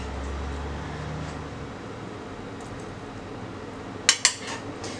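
Meat pie being assembled as minced meat filling goes into the pastry crust, with a soft steady hum and two sharp utensil clinks against a dish near the end.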